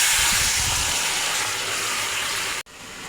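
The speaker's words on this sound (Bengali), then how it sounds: "তেল গরম হয়ে গেছে, তেজপাতা, পাঁচফোড়ন, ফোড়ন হয়ে গেছে, এখন তরকারিটা ঢেলে দেব।" Bottle gourd curry poured into hot oil tempered with bay leaf and five-spice, giving a loud, steady hissing gush of sizzling that fills most of the moment before cutting off abruptly near the end.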